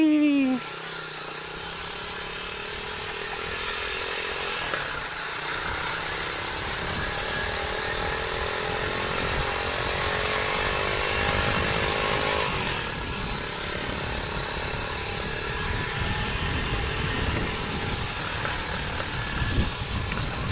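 A Rusi Classic 250 motorcycle with a loud aftermarket exhaust pipe runs with a raspy, buzzing engine note, revving and holding through long steady stretches, fairly close, with some wind noise over it.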